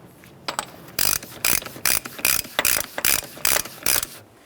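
A ratchet tightens the front axle nut on a Cadillac Escalade, giving a close series of about a dozen sharp, rhythmic clicking bursts that speed up slightly before stopping.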